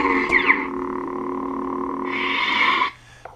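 A custom 2005 Anakin Revenge of the Sith lightsaber conversion fires its activation effect: a sharp ignition crackle swelling into a steady electronic hum, then a brighter surge before cutting off.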